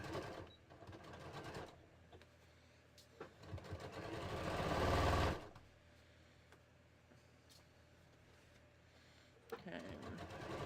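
A sewing machine makes a short run of very tiny stitches at a dart tip on a bodice, a close, buzzing burst lasting a few seconds, set between stretches of a person talking.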